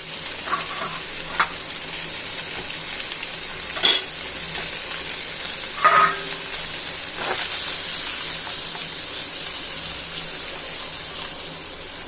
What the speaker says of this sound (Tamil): இப்போது பன்னீர்லாம் இதில் சேர்த்துடலாம் எல்லாத்தையும் சேர்த்து நல்லா வறுத்து எடுத்துருவோம்